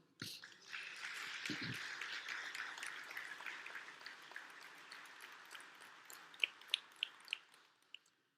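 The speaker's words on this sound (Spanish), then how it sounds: "¿Le da un aplauso al Señor?" A church congregation applauds during a sermon: a soft wash of clapping that gradually thins and fades, ending with a few scattered, distinct claps.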